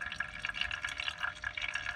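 Old brake fluid streams steadily out of a bleeder during a brake flush on a 2009 Nissan Versa, a close, continuous liquid trickle with fine splashing and bubbling texture.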